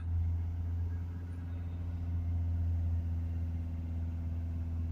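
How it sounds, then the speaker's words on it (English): A Ford Transit Connect 1.5 van engine with a restricted particulate filter is held at raised revs, a constant low hum and rumble, close by, with no voices. "if we hold the revs up"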